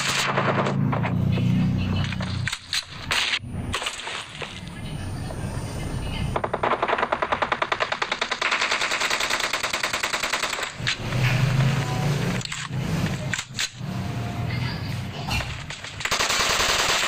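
Rapid automatic gunfire in the mobile battle royale game PUBG Mobile, long bursts of fast shots broken by short pauses and single cracks, loud and close throughout.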